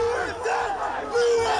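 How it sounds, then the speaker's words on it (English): A crowd at the barriers roars with massed shouting and yelling, loud and close, swelling to a sharper cry toward the end. "The shouting increased."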